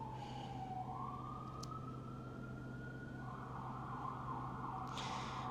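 A wailing emergency siren rises and sweeps steadily over a constant low hum, loud and continuous, with a brief click midway and no voices.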